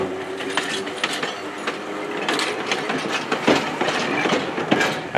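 Rockhill Trolley Museum's car 163, a 1924 Brill curved-side trolley, rolls past on rails with rhythmic clicking and clacking wheels and rattling mechanical noise, steady and fairly close, with no voices.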